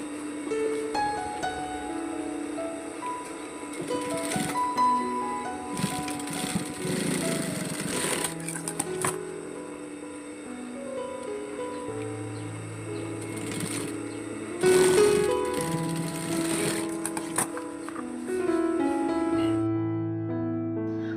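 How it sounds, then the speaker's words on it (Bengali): A sewing machine runs in repeated bursts while stitching along both sides of a homemade file cover bag, its motor whirring steadily and pausing between seams, with no talk. "এবার উভয় সাইডে সেলাই করে নেব ঠিক এভাবে সেলাই করে নিতে হবে"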